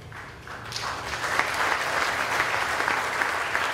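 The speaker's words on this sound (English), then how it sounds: "Let's give them one more round of applause." Applause from an audience after a talk on Christianity in the Middle East, building quickly from a few claps into a full, steady round that holds at an even level without any talking.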